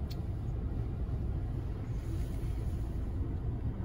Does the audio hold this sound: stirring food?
no